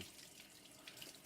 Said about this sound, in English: But I want to rinse these off real quick and get these at least ready to season